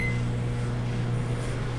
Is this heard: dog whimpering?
no